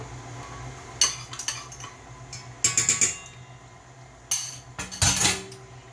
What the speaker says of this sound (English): 3 eggs and beat those up